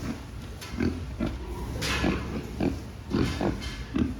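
Piglets, a few months old, oinking and grunting in short repeated bursts, fairly close, with a steady background hiss.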